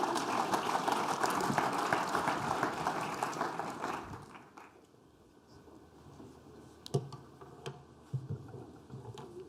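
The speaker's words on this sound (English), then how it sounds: "Let's give her a big round of applause," Audience applause for a speaker stepping onto a conference stage at a closing session, a dense sustained clapping that fills the room for about four seconds, then fades to near quiet with a few scattered knocks and shuffles.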